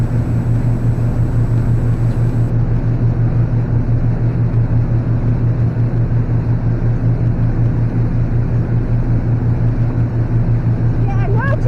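A boat engine running at open throttle while crossing Tees Bay toward a harbour entrance, a loud steady droning hum with constant low rumble throughout.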